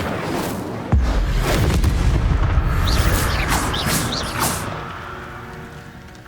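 A fire spell cast in the Hogwarts Legacy video game bursts with a sudden loud whoosh and boom, then a sustained roaring, crackling rumble that slowly fades over several seconds.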